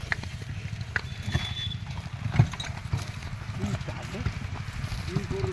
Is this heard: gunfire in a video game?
no